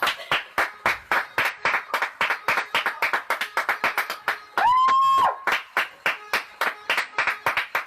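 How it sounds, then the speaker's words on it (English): Rhythmic, evenly spaced clapping from an audience, sharp repeated claps close by with a brief whoop or whistle partway through, little talk underneath. "people are applauding too"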